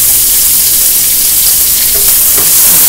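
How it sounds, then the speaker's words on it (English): White onion stir frying in a hot pan, a loud steady sizzle with faint stirring scrapes near the end, close and continuous with no voices. "Stir fry that a little bit."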